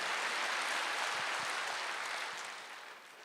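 Church congregation applauding together during a Wednesday worship service, a broad steady wash of clapping that stays loud and then gradually tapers toward the end.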